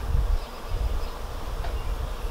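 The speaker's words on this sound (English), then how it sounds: "it is totally filled with bees right now, pollinating. You can actually slightly hear them humming." Bees humming while pollinating a blossoming crab apple tree outdoors, a dense continuous buzzing drone from many insects with a fluctuating low rumble beneath it, steady throughout.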